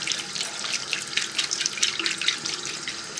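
Tap water runs steadily over etched glass as it is rinsed, a continuous bright hiss and splash with small irregular spatters, close and alone with no voices.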